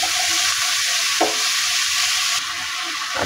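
Washed cauliflower florets frying in a pan of cooked-down spice paste, a loud, dense, continuous sizzle heard close with one brief clatter of stirring partway through and no talking.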